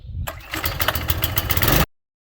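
An Earthquake Victory tiller engine is pulled and catches, a short burst of rough mid-pitched engine clatter that runs loudly for about a second and a half, then cuts off abruptly.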